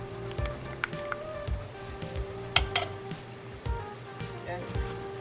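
Ground turkey with soy sauce, rice vinegar and sesame oil sizzles steadily in a pan. A utensil stirs it and gives off scattered scrapes and clinks, and the sound stays moderate with no one talking.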